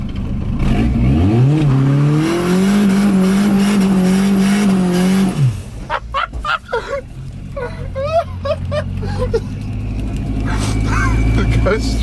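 A built turbocharged Volvo engine at over 120 mph, a loud sustained roar climbing through the revs then cutting off, followed by turbo whooshes, tire noise and rumble, with people talking over it.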